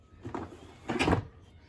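A drawer in an art studio storage unit holding acrylic and craft paints is pulled open, two short sliding rumbles, the second louder and longer, close by in a quiet room.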